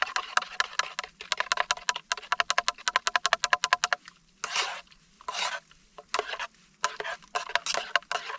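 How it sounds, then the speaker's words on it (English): Spoon stirring food in a pot at a snowy wild camp on Helvellyn, with rapid rhythmic scraping strokes close up, then slower, longer scrapes and rubs against the pot's metal sides. "I'll give that a stir."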